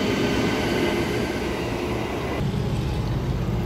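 An EMU electric train rolls through a station in a steady, broad rumble with rail noise, close and continuous, the tone shifting slightly partway through; no voices.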